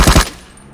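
Gunfire in Ring of Elysium, two or three rapid loud shots close by in quick succession, followed by a fading echo.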